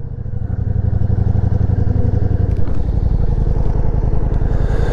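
Ducati Diavel V4 motorcycle engine accelerating hard, a loud, close, throbbing V4 roar that rises steadily with a quick gear change partway through, no talking.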